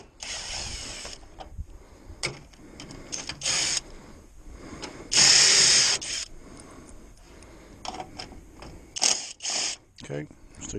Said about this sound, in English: So I have my little drill adapter here for my drill.